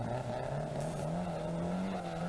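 Ford Escort rally car at speed on a 1983 Fota Island rallysprint stage: a loud, sustained engine note that climbs slightly in pitch as it holds revs, with a brief gravelly burst partway through.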